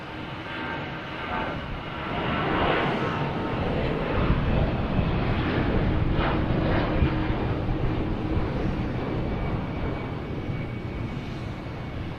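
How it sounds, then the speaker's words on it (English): An American Airlines Airbus A319 takes off, engine roar swelling from moderate to loud and holding as a broad, rumbling wash of sound with no voices. "here's American Airlines A319 heading to Reagan"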